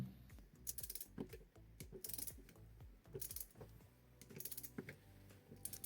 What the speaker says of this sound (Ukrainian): Тріскачка спрацьовує лише при значному зусиллі.